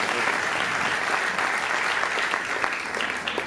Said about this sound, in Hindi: ये ताली आपके लिए थी